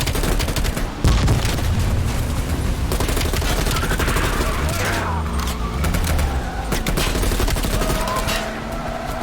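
Rapid, sustained gunfire in the shooter Call of Duty Black Ops Cold War, with loud crackling bursts overlapping with engine rumble and other battle noise throughout.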